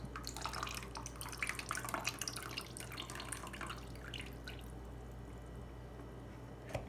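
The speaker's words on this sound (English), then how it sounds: "And then we squeeze out the rest of the liquid." Squeezed barbecue seitan dough releases liquid in a faint, rapid patter of drips and trickles for several seconds, which thins out and fades toward the end over a low steady hum.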